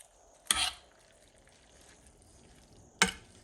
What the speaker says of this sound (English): You don't want the beans sticking at the bottom. So that's why you have to give it a stir.